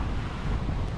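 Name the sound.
wind blowing into the microphone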